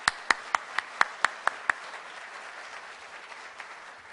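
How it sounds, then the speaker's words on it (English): A few people clapping at a Rotary meeting, about eight crisp evenly spaced claps over two seconds, then quiet room tone. "Let's give them all a round of applause."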